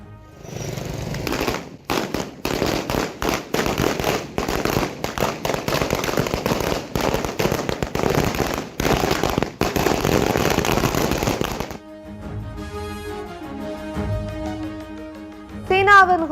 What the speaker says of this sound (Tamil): யாழ்ப்பாணத்தில் உள்ள விஜய் ரசிகர்கள் பட்டாசுகள் வெடித்தும் இனிப்புகள் வழங்கியும் உற்சாக கொண்டாட்டம்